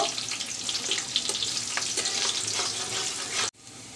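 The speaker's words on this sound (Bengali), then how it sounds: "পেঁয়াজটাকে ব্রাউন কালার করে নিয়েছি" Chopped onions sizzle and crackle steadily in hot oil while browning for a Katla fish dopiaza curry, a dense close frying hiss with small pops that cuts off abruptly near the end.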